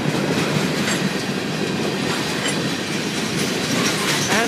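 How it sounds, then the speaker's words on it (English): A CSX freight train rumbles past nearby at a road crossing in Oxford, Ohio, with continuous clattering wheels and faint squeals, loud and steady throughout. "End of the train."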